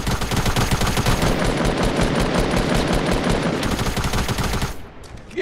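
Fortnite gunfire pours out in a loud, continuous automatic burst with rapid evenly spaced shots for nearly five seconds, then cuts off briefly and resumes at the end.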